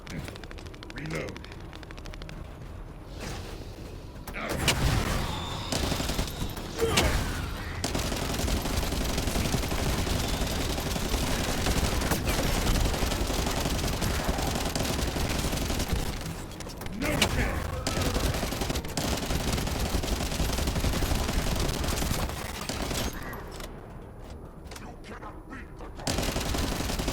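Sustained bursts of automatic gunfire and scattered shots rattle through a firefight in The First Descendant, with brief lulls between volleys and voices speaking over parts of the battle.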